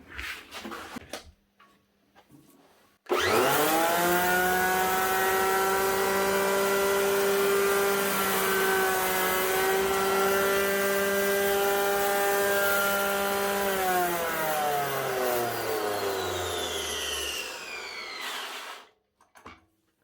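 An old Italian-made Pegasus floor sander, freshly repaired with new bearings and brushes, starts up with a loud steady motor whine and drone, runs evenly for a long stretch, then winds down in falling pitch to a stop.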